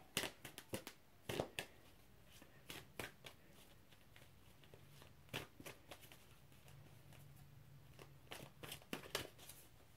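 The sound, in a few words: shuffling cards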